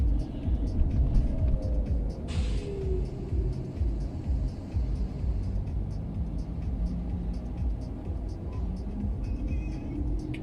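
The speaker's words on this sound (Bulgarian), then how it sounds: "той тръгва автобуса от спирката" A city bus pulls away from a stop nearby, its low engine rumble steady and loud under continuous talk inside a car, with a faint whirring rise as it moves off.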